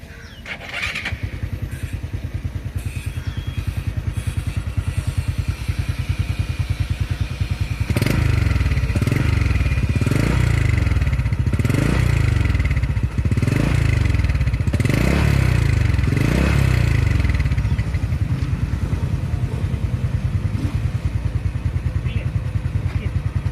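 A Yamaha NT10 motorcycle engine fitted with an Engine Catalyst 2.0 is cranked and started, then revved repeatedly in a steady series of rising and falling bursts over a loud idle, close to the microphone.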